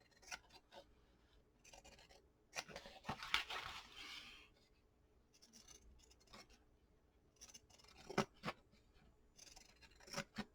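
Paper being trimmed with scissors or a blade for a fabric journal cover, heard as a quiet series of short snips and scraping cuts with pauses between, close and soft.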